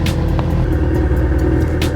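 A full bolt-on Mitsubishi EVO engine revs loudly and close at a drag race, a deep rumbling exhaust note held steady and strong.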